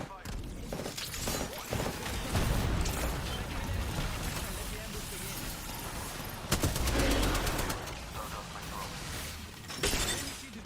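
Apex Legends gunfire crackles in rapid bursts and shattering impacts, with a sharp automatic burst midway and another near the end over busy game noise.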